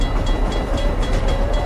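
A train rattles and clatters steadily as a giant Siren Head creature grabs it, a dense, loud rumble that holds at a constant level throughout.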